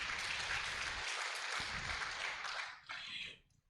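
Audience at a jurists' conference cultural night applauding, a dense burst of clapping that holds steady and then tapers off near the end.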